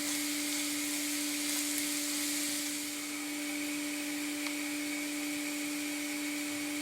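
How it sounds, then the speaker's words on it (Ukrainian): Carrot and vegetables fry in a pan for a low-calorie oyster mushroom pâté, making a steady, even sizzle held at close range throughout, with a faint constant hum underneath. "відправляємо моркву на пательню та перемішуємо її з нашими овочами"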